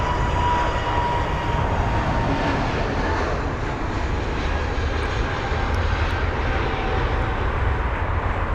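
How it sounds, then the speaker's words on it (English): A TAP Air Portugal jet starts moving at London Heathrow, its engines giving a steady, loud, broadband roar and whine that holds evenly throughout, close by. "Finally, the TAP jet is on the move."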